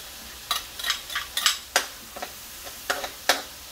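Onions stir-fried in a pan for Filipino-style spaghetti, with close, irregular bursts of scraping and stirring over a soft sizzle and no voices.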